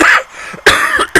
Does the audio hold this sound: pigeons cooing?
no